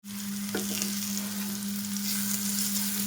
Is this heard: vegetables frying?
yes